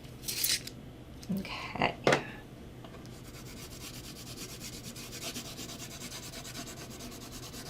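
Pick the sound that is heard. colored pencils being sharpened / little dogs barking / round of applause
colored pencils being sharpened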